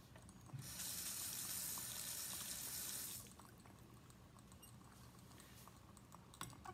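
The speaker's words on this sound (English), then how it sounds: "and I'm going to rinse them off." Pennies being rinsed under a running tap in a lab setting, a steady loud hiss of water for a few seconds that then cuts off, leaving faint clinks and low room noise.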